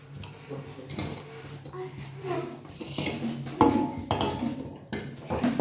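Banana stem bharta is mixed and mashed in a bowl, producing soft scraping and light clinking of a utensil against the dish, with a voice talking over it.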